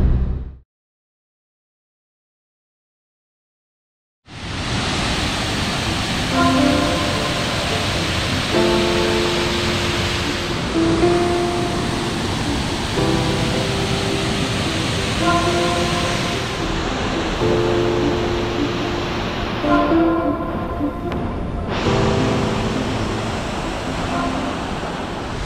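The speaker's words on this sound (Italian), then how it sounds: "questa cascata per fortuna non la conosce ancora nessuno" Repepeit waterfall in Slovenia roaring, a loud continuous rushing wash of falling water up close that starts abruptly after a few seconds of silence and holds steady throughout.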